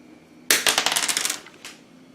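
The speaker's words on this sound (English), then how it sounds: "I'm going to use my D4 dice." A small D4 die tossed onto a hard surface, a sharp initial clatter followed by a quick series of rattling bounces that fade, with one last tap, close and alone.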